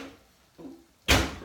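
A kitchen oven door is opened and closed while cooking creamy prawn courgetti: a soft thump, then a louder, close clunk of the door shutting.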